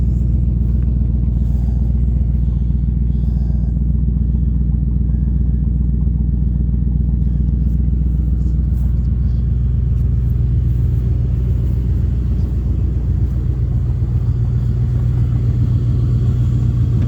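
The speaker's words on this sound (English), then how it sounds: "Start the truck, but it don't have a battery." A cold truck engine turns over without a battery and settles into a loud, steady low rumbling idle with some clatter, running continuously and close by with no talking.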